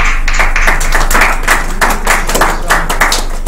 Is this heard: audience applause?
yes